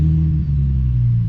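A Nissan 350Z engine drones loud and close in a low, steady growl, holding roughly even revs over the short stretch with a slight dip midway.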